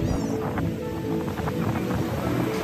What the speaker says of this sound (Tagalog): Sobrang lakas nga ng alon at ayun, bawal daw lumangoy.